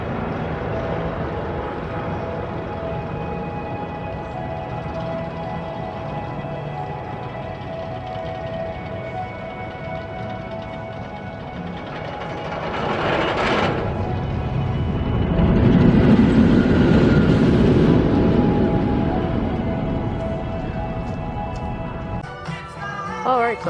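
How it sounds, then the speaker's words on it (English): Steel Eel roller coaster ride at SeaWorld: a steady rumbling, rattling roar of the train on its track, with a whooshing surge midway and louder wind buffeting toward the end, no talk. "Alright, so Steel Eel will be my 400th coaster. Let's go get a ride on this."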